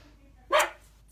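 A single short, sharp dog bark rings out once in an otherwise quiet room.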